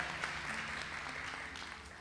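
Church congregation applauding the pastor's wife during a service, a steady wash of clapping from many hands filling the room for the full two seconds without a break.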